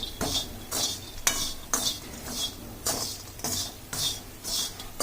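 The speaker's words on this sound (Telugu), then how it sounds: "ఇప్పుడు ఇవన్నీ వేసుకున్నాక బాగా మిక్స్ చేయాలి. ఇలా మొత్తం మిక్స్ చేసుకోవాలన్నమాట." A spoon stirs a taro root fry with coconut powder and coriander powder in a pan, giving a steady series of close metallic scrapes and clinks at an even rhythm, with faint sizzling underneath and no talk.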